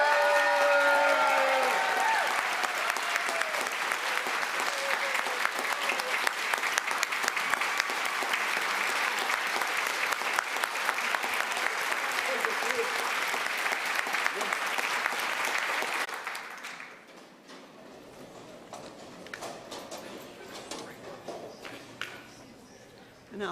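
A convocation audience claps in sustained, dense applause that carries on for most of the stretch, then fades sharply into quiet room sound; speech is briefly heard near the start.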